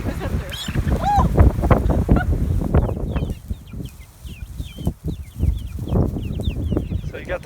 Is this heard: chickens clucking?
yes